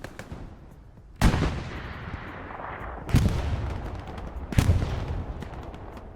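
Three heavy shots boom in a firefight in the video game Hell Let Loose. Each lands as a sharp, loud blast with a long rolling echo, over a background of steady battle rumble.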